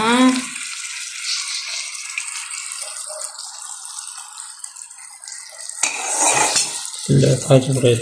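A spoon scrapes and clinks around a metal pot in steady strokes while making marshmallow syrup with sugar, followed by louder clattering and a short burst of running water near the end.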